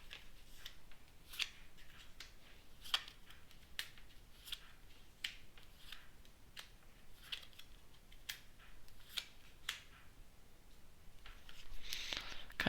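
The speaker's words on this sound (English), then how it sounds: "Let's go ahead and deal them out." Playing cards dealt out one by one for a game of solitaire, soft close flicks and slaps repeating at an unhurried, fairly even pace in a quiet room.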